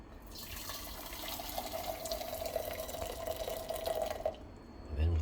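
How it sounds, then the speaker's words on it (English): Boiled water pours steadily into a soup tin, a continuous splashing stream whose pitch holds through the pour before it stops abruptly, followed by a soft low thump. "I'm using boiled water into this soup tin. And let's pour it in."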